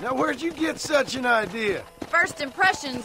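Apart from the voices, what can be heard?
No everyday noises stand out.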